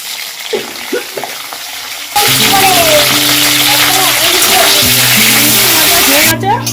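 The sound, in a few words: bitter gourd frying in oil in a wok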